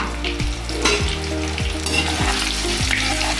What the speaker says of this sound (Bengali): তা চলুন এখন ভাজবো, এইভাবে ছাড়বো অল্প অল্প করে